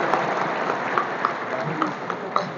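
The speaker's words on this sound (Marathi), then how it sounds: "जोरदार टाळ्यांचा गजर" An audience applauds at a cleanliness award ceremony as a student receives a laptop prize. Steady, moderately loud clapping fills the hall without a break, with a few sharper claps standing out.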